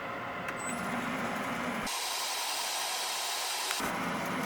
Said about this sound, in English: use a little 800 grit sandpaper to just take off the Dremel marks